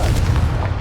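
The Confringo spell blast in the video game Hogwarts Legacy is a loud, deep booming rumble that carries steadily through the moment with a few soft crackles on top.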